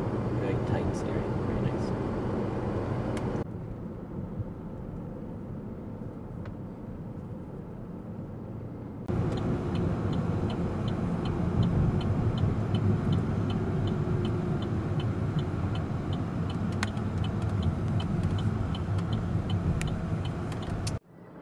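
A 2011 Saab 9-5 driving on the road, heard as a steady broadband rumble of engine and road noise from inside or near the car, briefly quieter midway, with what may be faint voices underneath.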